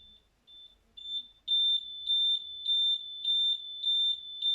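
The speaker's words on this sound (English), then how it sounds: "you can hear that it triggers the alarm" A shrill electronic alarm in a simple series and parallel circuit kit beeps in a steady repeating pattern, loud and close, after a few shorter chirps at the start.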